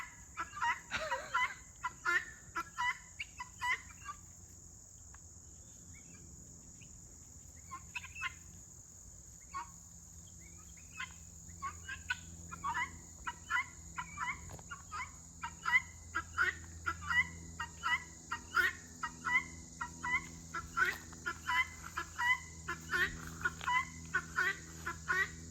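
Foraging guinea fowl call repeatedly outdoors, their harsh, rhythmic chattering cries growing denser and louder over time against steady insect buzzing and a faint hum.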